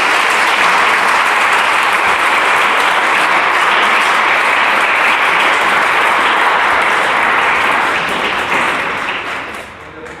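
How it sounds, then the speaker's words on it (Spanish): A church congregation at a Spanish-language service claps loudly and steadily, a thick uniform wash of applause that holds for about eight seconds before gradually tapering off. "Dale un aplauso a Dios, nuestro Señor."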